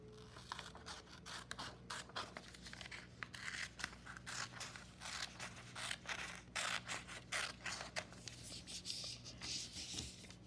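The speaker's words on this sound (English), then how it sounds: "I'm going to cut that rectangle off," Scissors snip through paper in a steady run of short, crisp cuts, close and clear, while a quiet low hum runs underneath.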